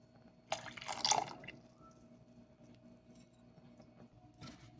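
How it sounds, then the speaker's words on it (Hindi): White vinegar, four tablespoons, poured into a pot of spicy tomato and chilli sauce, giving a brief close liquid splash and trickle followed by faint drips in a quiet kitchen. "ये 4 टेबल स्पून सिरका जो मैंने निकाला है, अब ये भी हम इसमें डाल देते हैं।"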